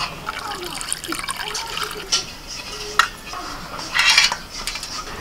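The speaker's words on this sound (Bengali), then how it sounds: "এবার আমি ঠান্ডা জল দিয়ে দিচ্ছি।" Cold water is poured over chhana to wash it in a kitchen, with splashing and trickling bursts and light clinks of a vessel, close by.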